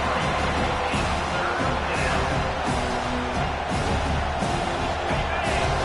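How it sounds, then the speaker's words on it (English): Stadium crowd at a college football game roaring steadily as the defense lines up on third down, a dense sustained wash of cheering with no break across the whole stretch. "Decibels rising as the crowd gets behind this defense on third down."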